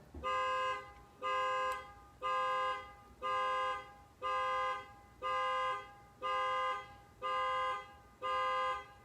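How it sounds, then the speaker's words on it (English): Car alarm blaring in a regular pattern, nine even horn-like blasts about a second apart, loud and repetitive with short gaps between. "I don't know if y'all can hear this car alarm going off"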